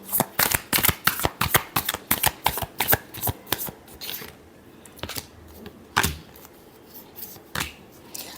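Tarot cards being shuffled by hand in quick, crisp riffling bursts that crowd together early, then thin into a few sharper, spaced flicks toward the end, close and clear with no talking.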